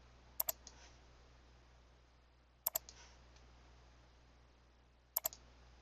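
Crisp computer mouse clicks during photo-editing work, arriving as three quick double-click bursts spaced a few seconds apart, close and clear over a quiet background hum.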